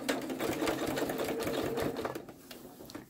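A sewing machine stitches through thick pants fabric near the elastic waistband, running as a fast, even mechanical whir close by that eases off toward the end.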